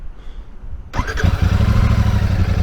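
A Royal Enfield Super Meteor 650 motorcycle engine cranks and fires up, then settles into a loud, close, rumbling idle.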